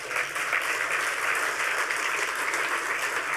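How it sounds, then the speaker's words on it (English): Audience applause at a hacker conference, a dense, even roar of many hands clapping from a large crowd, sustained without pause. "we need a round of applause for that"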